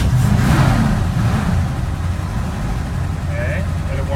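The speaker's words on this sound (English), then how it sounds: "get in and start it up and take it for a drive" A 1955 Chevrolet 3200 3/4-ton pickup's engine, choke pulled, rumbles loud and close with a steady low roar that swells slightly as it is revved, with a brief higher whine near the end.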